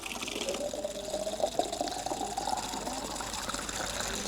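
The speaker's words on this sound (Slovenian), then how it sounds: "vodo natočite v steklenico, če je le mogoče" Water running from a public drinking fountain in Ljubljana into a bottle, a steady close gush whose tone rises as the bottle fills, continuing to the end.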